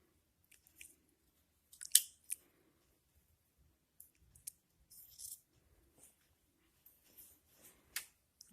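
Scissors snip away a serger seam on an Armani blouse, with sparse, crisp close-up cuts and clicks spaced irregularly across a quiet background.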